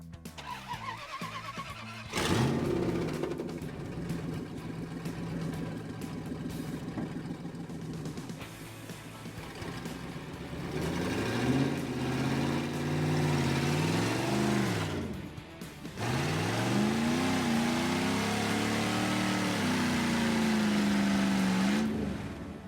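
An off-road truck engine rumbles and revs in rising and falling waves while driving down a trail, straining at times, with no talking over it.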